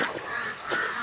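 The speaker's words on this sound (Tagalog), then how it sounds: "Ang galit naman ng uwak sa atin." A crow caws twice in a hot outdoor area near a waterfall, harsh calls fairly close and clear with no talking.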